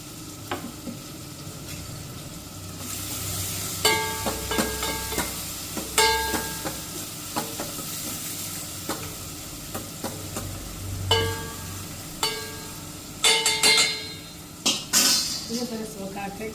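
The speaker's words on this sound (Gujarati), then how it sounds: "સરસ વઘાર થઈ ગયો." Spices tempering in hot oil for Gujarati mung dal rice, a steady soft sizzle with stirring and clinks of a spoon against the pot, plus scattered clatter of dishes and background voices.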